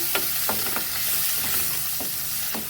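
Crushed garlic and grated ginger frying in a pan with cumin, a steady close sizzle broken by about six sharp spatula scrapes at a loose, regular pace.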